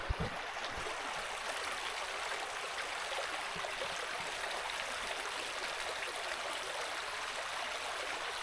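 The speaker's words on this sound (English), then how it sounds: "This is Lick Creek." Lick Creek, an icy stream in the woods near a washed-out bridge, rushes and burbles steadily up close, a dense broadband flow of water with no voices.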